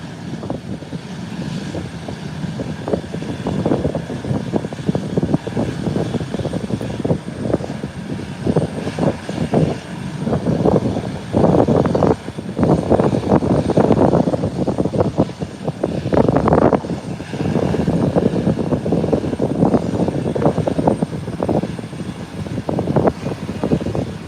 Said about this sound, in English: That must be the Inter-Caribbean coming in now.